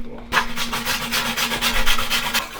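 A wire brush scrubs welds on the frame of an LS-swapped S10 pickup, making loud, rapid rasping strokes in a steady rhythm after a short silent start, with a constant low hum underneath.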